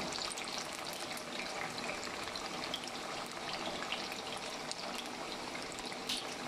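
Cut arbi (taro root) being rinsed in plain water in a kitchen, a steady broad splashing and swishing of water that runs close and continuous with no talking.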